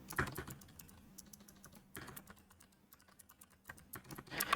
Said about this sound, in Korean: 컨트롤 쉬프트 엔터 키를 눌러서 입력을 하셔야 돼요